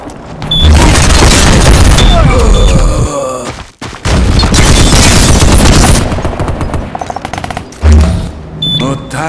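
In the shooter game Ballistic Overkill, a grenade blast booms amid heavy, close gunfire, with rapid bursts of automatic shots, a brief drop to near silence, then renewed firing and another heavy impact.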